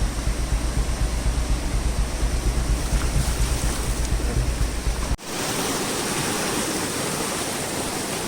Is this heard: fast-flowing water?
yes